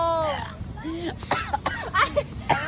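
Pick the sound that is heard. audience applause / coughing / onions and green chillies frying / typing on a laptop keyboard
coughing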